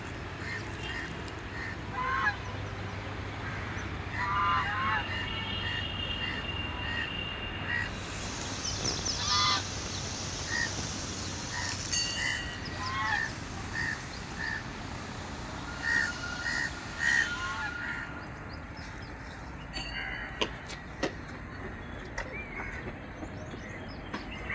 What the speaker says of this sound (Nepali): चराहरू चिरबिर गरेको छ।